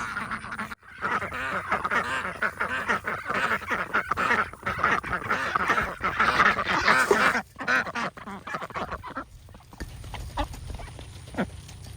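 Flock of farm ducks quacking loudly at feeding time on a fall morning at a farmstead, a dense, continuous chorus of overlapping quacks and honks nearby that thins out near the end.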